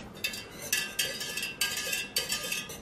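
Melted candle wax mixed with essential oils being stirred in a container, repeated scraping, clinking strokes in a steady rhythm about every half second, close and moderately loud with no talk.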